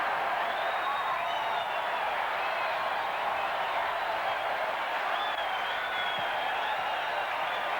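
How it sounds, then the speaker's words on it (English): A stadium crowd at a 1979 Brisbane versus Queensland Country rugby league match roars after a Brisbane try, a steady, dense wash of cheering and applause that holds loud and unbroken throughout. "the crowd has erupted here"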